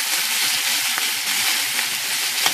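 Roast beef browning in a frying pan sizzles loudly and steadily up close, a dense continuous crackle with occasional sharper pops and no talking.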